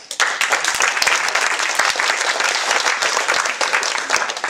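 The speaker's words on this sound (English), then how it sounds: "Let's give him a round of applause." An audience at a public speaking lecture applauds loudly and steadily, with dense clapping sustained from start to finish.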